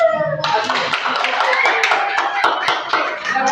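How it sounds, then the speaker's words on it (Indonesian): A classroom of students clapping for a discussion group, brisk uneven hand claps close by that start after a short moment of speech and continue steadily. "Oke, tepuk tangan dulu kepada kelompok 2 luar biasa."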